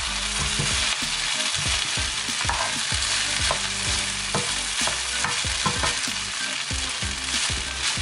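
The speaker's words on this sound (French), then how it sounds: "que ce soit bien mélangé, que la sauce du soja aille un peu partout, soit mélangée avec du riz" Rice and vegetables stir-fried with soy sauce in a wok sizzle loudly and continuously, while rhythmic scraping strokes of the spatula repeat every half second or so, close up and with no voices.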